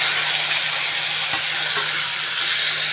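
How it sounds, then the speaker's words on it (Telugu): Boiled bitter gourd pieces frying in a hot tempering of spices for a sweet jaggery-tamarind curry, giving a steady, even sizzle and hiss throughout with one or two faint stirring clicks, no voices. "ఇప్పుడు ఇందాక మనం ఉడికించి పెట్టుకున్న కాకరకాయ ముక్కలు వేసేస్తున్నామండి."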